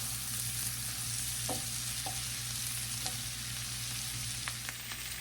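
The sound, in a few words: cabbage frying in butter in a pan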